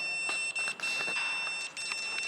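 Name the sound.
fire alarm sensor buzzer beeping at a flame, school science model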